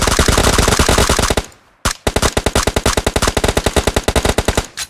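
Bursts of automatic gunfire from the PUBG Mobile shooter game, loud and close, with a rapid rattling volley, a brief pause, then a longer run of fast, evenly spaced shots.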